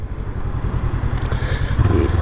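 Honda CB500X 2019 motorcycle pulling away hard from first gear, a loud, steady engine drone close by with a low pulsing beat that thickens toward the end as revs build.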